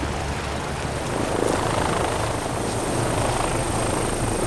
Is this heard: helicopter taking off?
yes